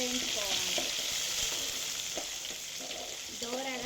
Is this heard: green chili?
yes